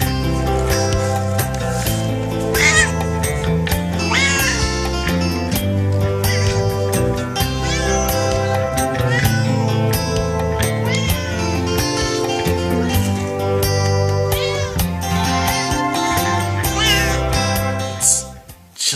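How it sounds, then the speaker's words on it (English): A cat meows repeatedly over loud, continuous music throughout, its calls mixed into a dense musical backing rather than heard alone. "Just a cat going around meowing."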